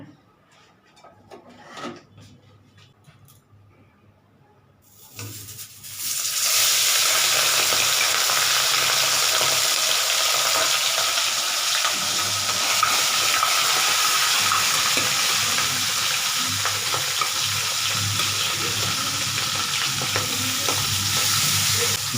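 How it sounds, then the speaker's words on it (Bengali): Loud, steady sizzling of barramundi (bhetki) fish frying in hot oil bursts in after a few quiet seconds with faint clatter, then continues without a break. "তেলটা খুব ভালো ফুটছে এবার তাহলে মাছগুলো আস্তে আস্তে ছাড়ছি"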